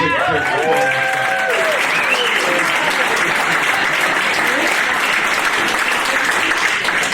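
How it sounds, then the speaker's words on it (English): An audience applauds the media guests at a Santa Cruz employer recognition event, a loud, steady round of clapping that fills the room, with a speaker's voice briefly heard over it at the start. "give a round of applause for our media being here"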